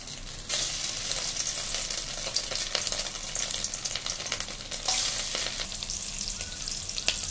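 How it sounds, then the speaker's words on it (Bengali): Meat pieces frying in hot oil in a wok, making a steady, loud, close sizzle that crackles and spits throughout with occasional stirring noises. "তেল ছাড়া হয়ে যাওয়ার পরে আমি একের পরে সেই মাংস ছেড়ে দিলাম।"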